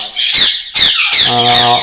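Birds at a bird nursery give loud, harsh squawks and squeaks close by, several rapid raspy calls in quick succession with brief gaps, sounding alone.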